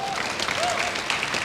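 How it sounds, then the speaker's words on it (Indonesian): Church congregation applauding during a worship service, a steady broad wash of clapping that sustains across the whole moment at moderate level with no clear gaps. "Mau tepuk tangan buat Tuhan, saudara?"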